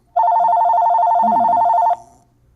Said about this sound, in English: There's our phone call, by the way.